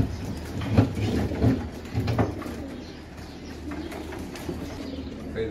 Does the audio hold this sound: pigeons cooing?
yes